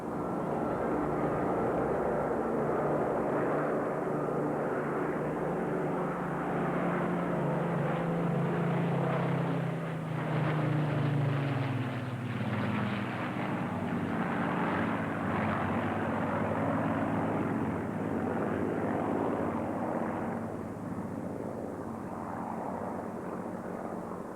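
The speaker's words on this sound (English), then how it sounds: "let's just listen to that grand sound of 6 Rolls-Royce Merlin engines" Deep droning roar of six Rolls-Royce Merlin piston aircraft engines passing overhead at an air show, steady and loud throughout, with the pitch shifting slightly as they go by.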